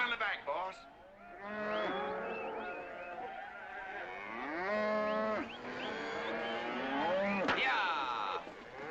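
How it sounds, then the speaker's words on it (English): Cattle in the back of a truck low and moo loudly, several long drawn-out calls following one another close by, with no one speaking over them. "You got cattle in the back, boss."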